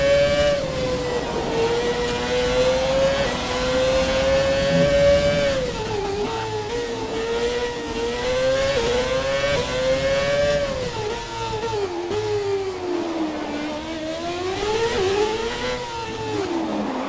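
Formula One race car engine in the F1 2017 video game, a loud, sustained high-pitched wail that rises and falls continuously as the car is pushed through the gears and corners, with no talking.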